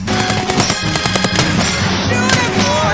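Booming shotgun blasts in the video game Escape from Tarkov, loud and close over a busy, continuous backdrop of game sound for a few seconds.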